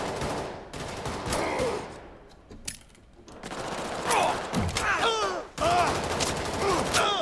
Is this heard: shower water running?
no